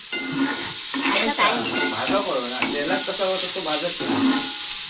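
Chopped onion sizzling and hissing in hot oil in a pan, a steady close fry with stirring, while a voice talks over it.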